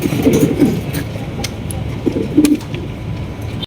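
Pigeons coo in soft, low bursts near the start and again midway, close by, over a faint background hum with a few light clicks.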